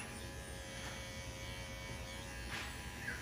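Electric clippers trimming a Schnauzer puppy's fur during her first haircut, a faint, steady buzzing hum running alone and unbroken throughout.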